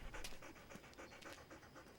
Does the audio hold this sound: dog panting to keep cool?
yes